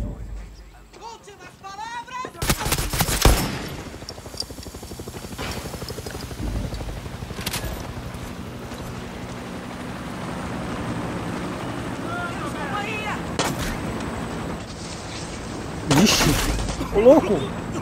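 Missile and gunfire explosions in Far Cry 6 land as several sharp, loud blasts over a constant helicopter-like rotor drone, with a person talking throughout.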